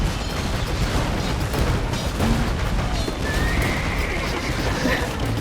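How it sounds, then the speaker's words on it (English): Dense, continuous battle din with dull booming blasts and clatter from bombard cannons firing in Age of Empires, a steady wall of game combat noise with faint voices mixed in. "doing his thing with the bombard cannons"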